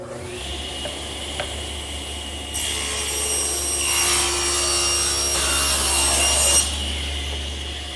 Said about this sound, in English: to cut them, I'll just use my stationary saw